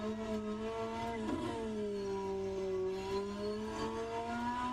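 Race car engine in a German touring car sim race at Suzuka, a steady high-pitched drone with rising and falling revs as the throttle is worked, loud and continuous with no talk.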